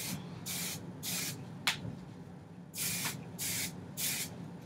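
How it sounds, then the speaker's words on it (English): Shine Infusion hair product sprays onto hair in six short hissing bursts, close and clear, with quiet pauses between them. "Shake it up and put a tiny bit throughout your hair."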